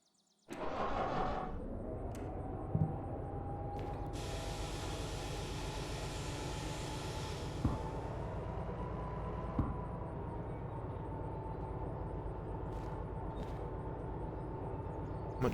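A large locomotive in the Derail Valley train game runs with a steady low rumble and engine drone. It starts abruptly and holds at an even level throughout, with occasional faint clanks.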